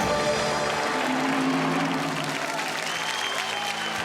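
Studio audience applause fills a Bhojpuri-language quiz show set, a dense, steady burst of clapping that stays loud for the whole span with a faint crowd murmur underneath.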